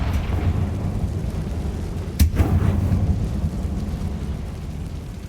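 A Confringo spell explosion in the Hogwarts Legacy video game: one sharp, loud blast roughly midway, with a rumbling tail over a steady low background of battle noise.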